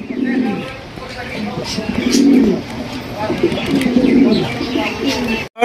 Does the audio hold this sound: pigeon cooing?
yes